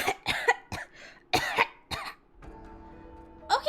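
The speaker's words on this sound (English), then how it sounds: "I heard Okita begin to cough." A game character in Hakuoki: Kyoto Winds coughs in a rapid run of harsh, close bursts, several in a row, then a pause with faint background music before another cough.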